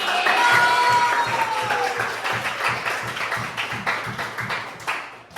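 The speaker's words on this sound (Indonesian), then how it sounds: "Tepuk tangan juga ke Pak Ignas karena sudah" An audience applauds during a training session on AI ethics. The clapping is loud and close, with individual claps audible at first, then thins toward the end while a voice speaks faintly over it.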